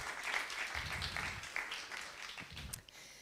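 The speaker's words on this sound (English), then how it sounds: "So a big applause to them." Audience applause at a conference talk on urban rights and technology: a fairly quiet, distant round of clapping from a crowd, steady for a few seconds before tapering off.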